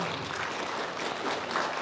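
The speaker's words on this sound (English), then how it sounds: "keep those applause coming" A crowd claps steadily at a police department promotion ceremony, a brief burst of sustained applause heard from within the room.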